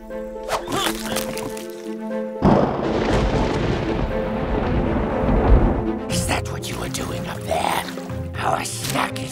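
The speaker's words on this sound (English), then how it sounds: "Look out, lightning!" A long, loud rumbling boom of cartoon thunder following lightning, rolling for several seconds between stretches of voices and music.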